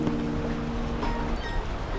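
Water rushing at a spillway at night, a steady broad wash of churning flow with a constant low roar and no breaks.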